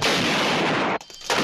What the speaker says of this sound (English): Finally, Queen Tanya gets shot.